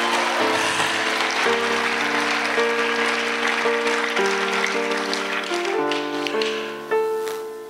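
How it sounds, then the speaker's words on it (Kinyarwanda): A church congregation claps in a sustained round of applause under tonal music with shifting held notes, the clapping fading toward the end. "Abanyumvise mukomere Imana amashyi menshi cyane"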